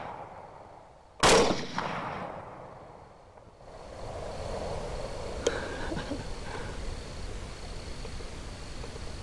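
A single sharp rifle gunshot cracks out loudly, followed by a fading rolling echo and a quieter outdoor background.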